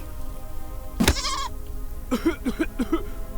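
A goat bleats in the Deponia Doomsday adventure game, a loud wavering cry followed by a quick run of shorter stuttering bleats, set over a steady low background hum.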